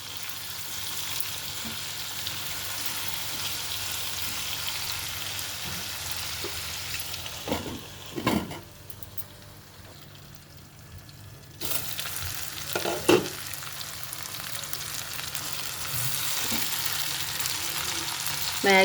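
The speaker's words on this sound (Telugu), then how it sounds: "ఇప్పుడు మీడియం ఫ్లేమ్లో పెడుతున్నాను. ఇంకో 2 మినిట్స్ మధ్యలో కలుపుకుంటూ ఉండాలి." Eggplant pieces fry in a pan over a medium flame while being stirred. A steady close sizzle runs throughout, dips briefly in the middle, and is broken by occasional scraping stirs.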